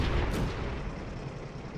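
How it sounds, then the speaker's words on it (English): Tank gunfire in World of Tanks, a heavy booming shot with a sharp crack at the start, then a rumbling low decay. "And there's people shooting everywhere."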